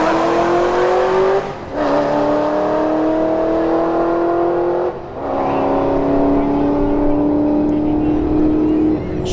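Drag racing cars launch down a strip at a street-heat night, including a Shelby GT500, as two hard accelerations rise in pitch with gear changes, loud and close, separated by brief dips between runs.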